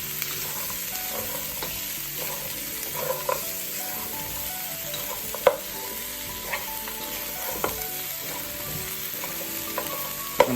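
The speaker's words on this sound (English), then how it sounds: "we're gonna give that a nice mix, a nice stir to get that ginger and that garlic to combine with the oxtail" Oxtail with ginger, garlic and onion crackles in a pot for a brown stew as a spoon stirs it. A soft, even sizzle runs throughout, with a few scattered clinks of the utensil against the pot.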